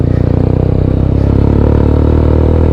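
A TVS Apache RTR 200 motorcycle ridden off-road gives a steady, loud low engine drone throughout, with faint clatter and scraping over the rumble and no talking.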